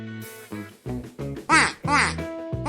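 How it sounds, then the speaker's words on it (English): A duck quacks in a few loud, raspy bursts on a farm, with calls clustered near the middle and other animal-like voices before and after. "They can even quack in different ways to talk to each other."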